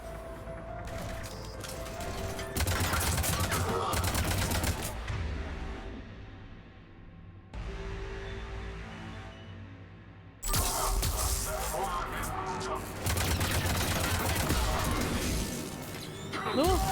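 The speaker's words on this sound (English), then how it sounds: "I'm glad that turret's going off when I'm trying to read this" A turret in the video game Mass Effect 3 fires in long, loud bursts of rapid, crackling gunfire that stop briefly and then resume.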